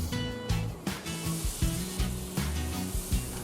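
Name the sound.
flour frying in butter for white sauce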